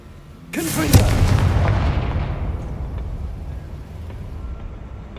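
A blasting spell in the Hogwarts Legacy game goes off in one sudden heavy boom, with a bright crackling burst that rumbles and fades slowly into a low roar.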